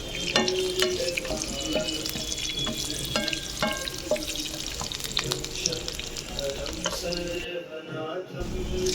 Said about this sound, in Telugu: ఇప్పుడు కాజు కూడా వేసేసుకొని దోరగా ఫ్రై చేసేసుకుందాం.